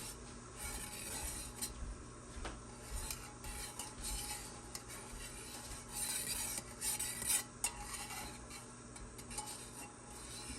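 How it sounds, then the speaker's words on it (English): A utensil stirs melted soy wax for candles in a container with steady scraping and rubbing strokes, faint and close, plus an occasional light clink against the side and no talking. "And we stir this for 2 minutes."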